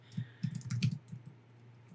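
Quick bursts of keystrokes on a computer keyboard, a short cluster of close, crisp clicks followed by a few slower taps.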